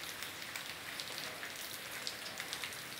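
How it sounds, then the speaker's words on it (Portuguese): Heavy rain pouring in the countryside near Pirambu, Sergipe, in northeastern Brazil, a dense continuous hiss of drops on surfaces, steady and fairly distant, with no voices. "Chuva, chuva, muita chuva."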